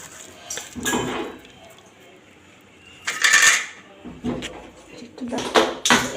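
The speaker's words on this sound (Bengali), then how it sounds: "এখন একটু হাতেই মেখে নিচ্ছি ভালো করে, সবগুলো মিক্স করে" Egg chutney being mixed by hand in a bowl, giving soft clinks and scrapes of dish and utensil in short clustered bursts, with quieter handling noise in between.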